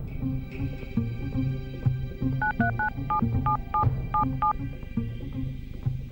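A telephone number is tapped out on a keypad in a television crime drama: a quick series of distinct beeps, near and clear, over a steady low musical background.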